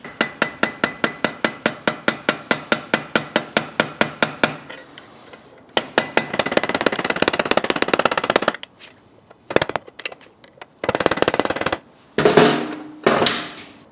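Steady rapid hammer taps drive the stock exhaust header on a 2024 Triumph motorcycle, close and metallic, about thirty even strikes in a row before pausing, then scattered clanks and bursts of metal handling follow.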